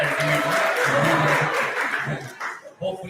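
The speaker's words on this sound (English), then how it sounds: "My huge round of applause." Applause from a dental sciences conference audience, a dense patter of clapping that swells then thins out, with a voice talking over and after it.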